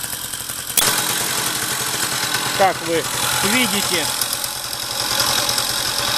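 A Riga 13 moped engine runs steadily just after starting, a rapid rattling two-stroke putter that is not yet broken in, with someone talking over it.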